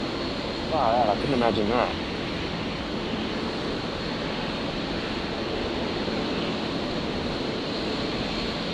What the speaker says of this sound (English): The Qantas 73 just touching down there.